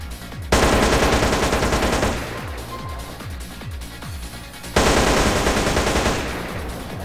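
M4 rifle gunfire in GTA San Andreas, two loud close bursts of rapid automatic fire, each trailing into a string of decaying echoes and reverberant tails.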